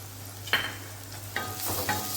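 Tomato being stirred into onions frying in a pan: a soft steady sizzle broken by three short scraping strokes of a spoon against the pan, close and with no talking.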